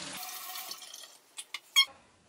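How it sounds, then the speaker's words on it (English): A hookah grommet rinsed under a warm running tap: a steady gush of water that stops, followed by a few short splashes and drips, close and fairly quiet. "I just run it under hot water"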